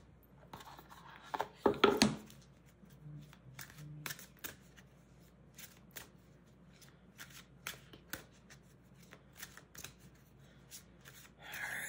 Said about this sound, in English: Now I'm going to pull a different deck.